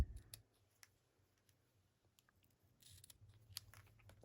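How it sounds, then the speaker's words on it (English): Scissors snip off excess craft ribbon, giving a few faint, crisp cuts and small clicks in a quiet room. "we'll snip the excess off"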